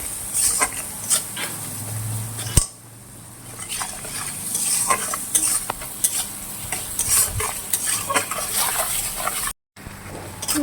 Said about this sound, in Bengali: এবার এটাকে আরও 2-3 মিনিট কষাতে হবে।